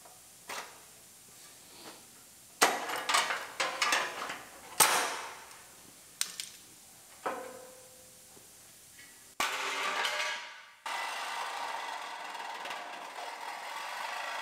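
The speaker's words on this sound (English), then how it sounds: "So now we're going to cut our C pillar." A power saw cutting through the sheet-metal C pillar of a 2006 GMC Sierra pickup, in several short loud bursts with pauses, ending in a longer sustained grinding cut, close up with no talking.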